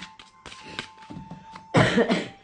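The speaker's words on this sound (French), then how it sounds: "Je suis désolée pour ma toux." A woman's single harsh cough from a cold bursts out loudly after some low, muffled background sounds, close to the listener.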